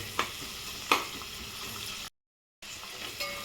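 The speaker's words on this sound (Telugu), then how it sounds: "ఈ పచ్చిమిర్చి ఆనియన్ మొత్తం కూడా మంచిగా వేగాలి ఆయిల్లో" Green chillies and onions fry in oil in a pan for a tomato coriander curry, a soft steady sizzle broken by a couple of stirring clinks and a brief dropout.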